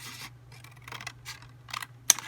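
Scissors cut through watercolor paper in a few short snipping strokes, close and fairly quiet, with a steady low hum underneath and a sharp click near the end.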